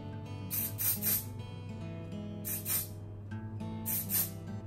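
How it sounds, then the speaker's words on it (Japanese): Aerosol hair spray hisses in three separate bursts while shaping a shoulder-length bob on fine hair, each spurt close and crisp over a steady low hum. "髪の毛が出てるような感じになるようにスプレーで"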